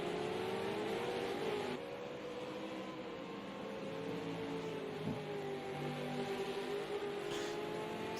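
Race car engine held at steady, moderated revs through the final corners at Circuit of the Americas during a National 200 race, a continuous close drone with slight pitch dips as the throttle is feathered.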